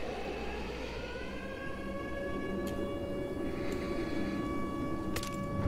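Wailing sirens in the video game World War Z, a steady droning tone with layered harmonics holding continuously at moderate volume, with faint clanks over a low background rumble.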